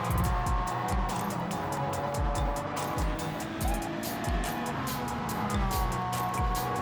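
Ferrari race cars at Monza, engines roaring close by with repeated low pass-by sweeps and a dense, continuous mechanical drone throughout.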